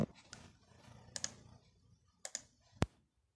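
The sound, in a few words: typing on computer keyboard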